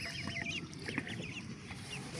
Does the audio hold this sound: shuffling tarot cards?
no